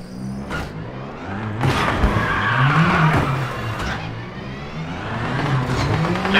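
A rally car in WRC 8 drives over snow, engine note rising and falling through gear changes while tyres hiss and crunch under braking, loud and continuous with no voices.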